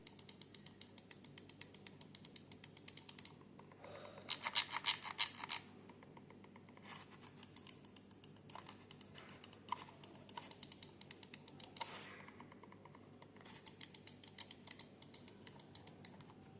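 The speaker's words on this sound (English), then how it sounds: "here's how the buttons sound on this thing" Logitech G Pro X Superlight mouse buttons click repeatedly up close, crisp sharp taps in steady runs, some rapid flurries, otherwise quiet.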